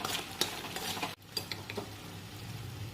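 Pav bhaji gravy with masala being stirred in a pan over heat, a steady close scraping and stirring under a low sizzle of oil, briefly interrupted by a short gap.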